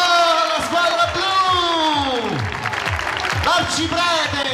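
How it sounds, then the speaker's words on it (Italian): Crowd applauding and cheering the blue team at the Palio Campolese in Campoli Appennino, steady clapping with whoops and shouts under continuous nearby talk from an announcer's voice. "applauso alla squadra blu"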